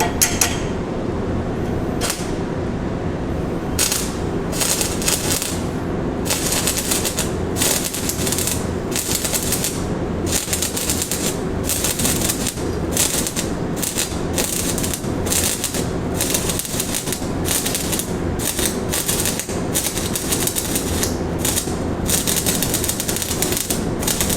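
Electrode arc welding in a workshop, run slow and steady in a single pass: a continuous loud crackling, sputtering hiss with dense irregular pops throughout, close and unbroken, with no talk.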